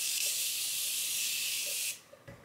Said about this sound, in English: I'm going to spritz my face with some Morphe.